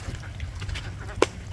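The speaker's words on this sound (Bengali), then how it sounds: "আবার একটা হাঁস দেখা যায় রয়েছে" A sick duck resting on a village pond in Bangladesh gives a single short, fairly faint quack near the end, over quiet outdoor background noise.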